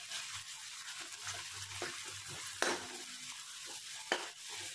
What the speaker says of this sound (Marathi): कांदा फुल गॅसवर मस्तपैकी तेलामध्ये परततोय